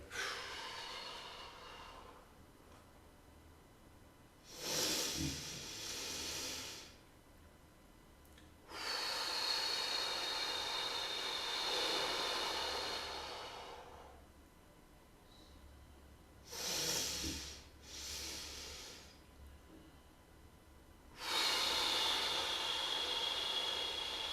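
A swimmer demonstrates a breathing pattern out of the water: forceful, noisy exhalations and inhalations come in several close bursts separated by quiet holds, with no speech.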